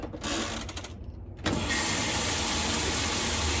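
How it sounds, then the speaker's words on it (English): Steady broadband whooshing of a running washing machine, close and constant, with a brief dip and clunk before the noise swells back to a continuous roar. "Get some white noise from the washer here."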